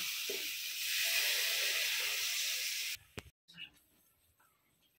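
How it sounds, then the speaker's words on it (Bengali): Water poured into a hot pan of cooking Maggi noodles with masala gives a loud, steady sizzling hiss for about three seconds, then cuts off into quieter scattered clinks and faint bubbling. "এবার আমি অল্প জল দিয়ে দিচ্ছি একটু।"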